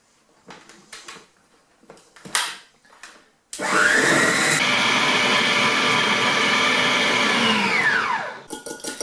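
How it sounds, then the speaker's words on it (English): An electric hand mixer creaming butter and sugar for a Bakewell tart: after a few soft knocks and taps, the motor kicks in with a loud steady whine for about five seconds, then winds down and stops. "I'm going to get this going a little bit with my mixer and soften it down till it's a bit fluffy"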